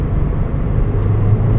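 Turbo spool from a 2015 Subaru WRX Limited accelerating in cold weather, a steady low engine drone with a faint whine riding on top, heard from inside the car without talk.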